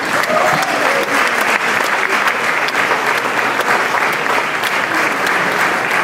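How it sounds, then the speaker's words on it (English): An audience claps warmly at a 2012 fashion show award presentation, a dense, steady round of applause that holds at an even, loud level throughout with no voices over it. "We'll just give him a warm round of applause."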